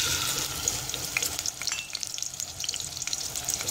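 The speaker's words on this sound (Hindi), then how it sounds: "अब मैं इसके अंदर प्याज ऐड करूंगी।" Onions sizzling in hot cooking oil over a medium flame for white chicken korma, a dense, continuous crackling fry with tiny pops throughout, close and fairly loud, with no talking.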